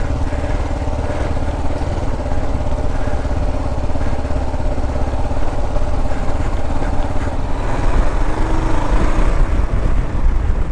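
Kawasaki KLR 650 dual sport motorcycle riding an ATV trail, a steady close engine drone with wind rush and slight pitch shifts, heard alone without talk.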